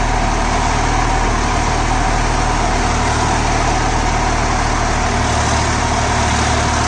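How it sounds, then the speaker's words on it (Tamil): A Swaraj 963 FE 4WD tractor engine runs at 1700 RPM in creeper first gear, driving a banana-special rotary mulcher through the PTO at 540 RPM. It makes a loud, constant, close-up mechanical roar with no breaks and no voices. "இப்போ க்ரீப்பர் ஃபஸ்ட்டு கியரில் 1700 இன்ஜின் RPMல வந்து ஆப்ரேட் பண்ணுறாங்க. PTOவில் 540 RPMல ரன் பண்ணுறாங்க."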